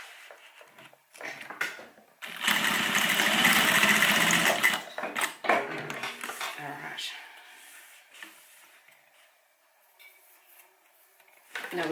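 Sewing machine back stitching fabric for a homemade airliner cabin bag, a close, loud mechanical whirr in a few bursts, the longest in the first half, with quieter handling noises and a voice talking between runs.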